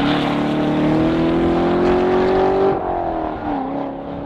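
A 2014 Chevrolet Corvette Stingray V8 on a race track revs hard under acceleration, its rising engine note loud and close, then a brief dip at a gear change before the pull resumes.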